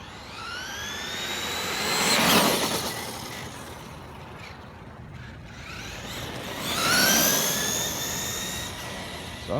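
A Traxxas Rustler RC car with a Hobbywing QuickRun 10BL60 ESC on 2-cell power does a flat-out speed run, its high-pitched motor whine swelling past twice and fading between passes.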